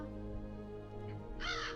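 A pet crow gives a single harsh, raspy caw near the end, rising clearly above a steady tonal background hum.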